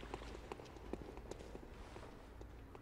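Footfalls of an unseen partner on the other side of a wall in Bloodborne, a quiet, regular patter of steps that thins out toward the end over a dull background hum.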